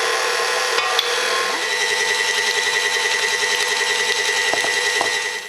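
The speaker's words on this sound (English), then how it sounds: "So I'm going to beat those together first until they go light and fluffy." Electric mixer beating cupcake batter with eggs for red velvet cupcakes, a loud steady motor whir close by with a few clicks and knocks as the beaters hit the bowl.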